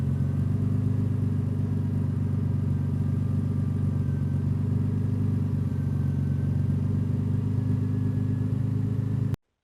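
Turbocharged BMW E30 with M52 engine on new engine management, idling in a steady low rumbling drone, close and constant until it cuts off at the end.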